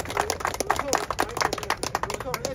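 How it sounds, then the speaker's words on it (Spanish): An audience claps at a public talk, a brief burst of dense, fairly close hand claps that continues steadily for a couple of seconds. "Palmas para nosotros."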